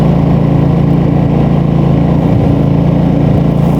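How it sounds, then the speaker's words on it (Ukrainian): A Kraft&Dele KD186 portable generator with economy mode runs steadily nearby, its engine giving a constant loud droning hum with a low harmonic buzz throughout, no voices present. "Вмикаємо ще раз генератор. Так, працює."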